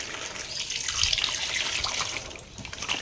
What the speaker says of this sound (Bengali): পরিষ্কার জল দিয়ে ধুয়ে নেব